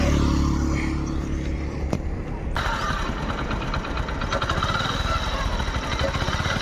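A 2015 Hero HF Deluxe motorcycle engine catches partway through and settles into a close, even putter at idle, its single-cylinder pulses steady and moderately loud.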